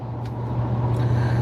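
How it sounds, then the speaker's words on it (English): A car on the road to the airport, its steady low engine drone and road rumble running continuously and fairly close throughout, with no talking. "today we're driving to the airport"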